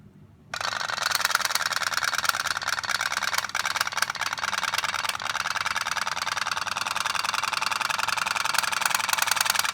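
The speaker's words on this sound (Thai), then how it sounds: "นี่ครับเรือป๊อกแป๊กครับ" A tin pop-pop toy boat engine putt-putts in a fast, continuous rattling stream after a brief quiet start, steady and close, with no speech over it.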